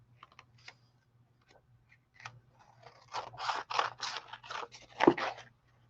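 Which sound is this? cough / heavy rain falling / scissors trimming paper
scissors trimming paper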